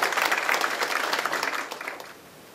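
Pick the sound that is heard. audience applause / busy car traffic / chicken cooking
audience applause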